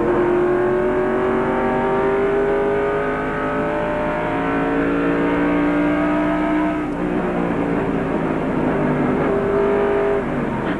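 Race cars circle the Nazareth Speedway oval at a 1996 event, their engines droning loudly with steady, rising and falling whines as cars pass close by in a continuous roar.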